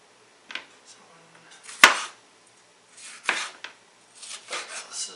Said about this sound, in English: Thought I'd do this while chopping vegetables anyways.